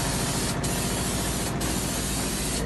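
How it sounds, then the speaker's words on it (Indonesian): Clear coat is sprayed evenly onto a Yamaha Mio Sporty motorbike body panel, giving a loud continuous close-up hiss of the spray gun with two very brief breaks. "Semprotkan secara merata."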